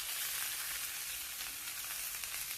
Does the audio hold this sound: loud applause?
no